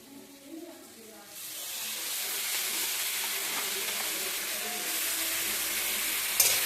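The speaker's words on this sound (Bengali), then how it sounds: "টমেটো পেঁয়াজ ভাজা হয়ে গেলে তারপরে আপনারা শাকগুলো দিতে থাকবেন" Leafy greens go into a pan of fried tomato and onion, and after a quiet start a loud, sustained hissing sizzle erupts and holds steady to the end.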